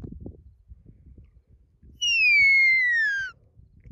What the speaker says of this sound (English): That's her lie down whistle, which is her least favorite.